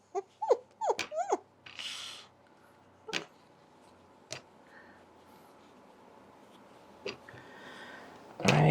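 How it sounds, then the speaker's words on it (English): Several puppy dogs in a sewing studio give short whimpers and small vocal sounds near the start, then faint scattered ticks and rustles, with a louder burst at the very end. "he also likes to have all the rest of the puppy dogs to come down to the studio as well with him"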